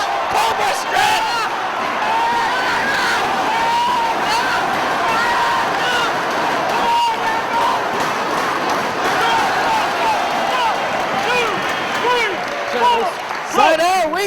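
A large wrestling crowd in Cleveland cheers and roars steadily throughout a professional wrestling match, with whoops and shouts rising over a constant dense wall of noise and a louder surge near the end.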